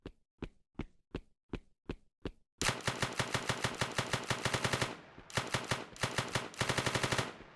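Placeholder gunshot effects in a shooter game under development: seven single spaced shots, then rapid automatic bursts of fire, loud and punchy, with a brief pause between bursts.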